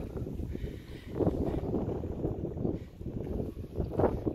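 Steady wind rushes and flutters against a close microphone on a boat with a bimini top and sides fitted, rising and falling in gusts, with a low rumbling buffeting throughout.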